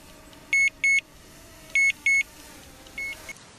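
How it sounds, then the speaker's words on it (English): A Cfly GPS drone beeping in return-to-home mode: four loud, evenly paired electronic beeps, then a fainter fifth, clear over a soft outdoor background. "it says return to home mode, and it beeps to you when it's coming back."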